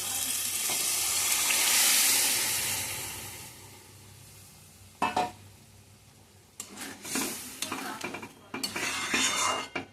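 Boiled chana dal hits a hot pan with a loud sizzle that fades slowly, followed by metal spoon scrapes and clinks as it is stirred, no voices present.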